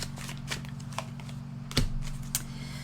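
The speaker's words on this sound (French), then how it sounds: "Je vais voir une carte de plus." Tarot cards shuffled and drawn during a reading, heard as a few soft, close papery riffles and slaps scattered through a quiet background, with one sharper card snap near the end.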